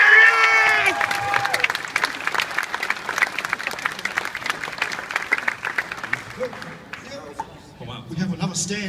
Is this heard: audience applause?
yes